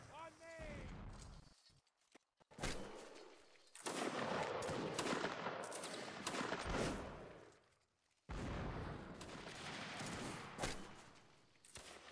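Musket volleys and scattered rifle shots crackle through a Napoleonic Wars battle in the Mount & Blade game, dense bursts of gunfire with brief lulls between, mixed with battlefield noise and some voices.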